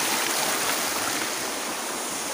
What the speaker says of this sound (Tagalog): Yung waterfalls.